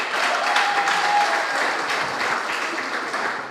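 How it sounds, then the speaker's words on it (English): Audience applause at a formal diplomatic gathering in Addis Ababa, a steady dense clapping from many hands that holds loud and even for the whole stretch. "In absentia, we could give him a handy clap,"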